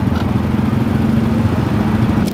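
A motorcycle engine hums steadily during a ride through Vietnam, a close, continuous droning rumble with wind noise and no talking, trailing off slightly at the end.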